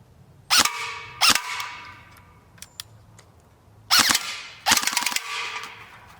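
A used electric airsoft gun powered by a 7.4 volt LiPo battery fires short full-auto bursts: four sharp rapid rattling volleys with pauses between, near and crisp, plus a couple of faint clicks.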